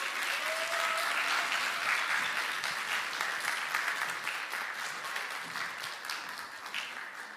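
A church congregation applauds warmly for a pastor being welcomed to preach at a Sunday service, a steady wash of many hands clapping at close range that holds even and full before easing slightly toward the end.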